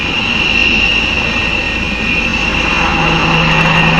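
A HAL light utility helicopter flies past at an air show, its engine and rotor giving a loud, continuous roar with a high whine running through it and no break.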